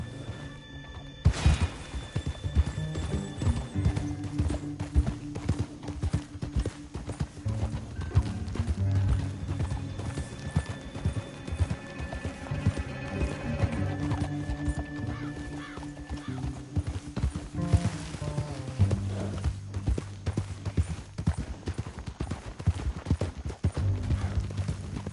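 Rhythmic clip-clop of galloping hooves runs steadily throughout in Red Dead Redemption 2, with horse whinnies and clattering game sound effects layered over it, loud and close.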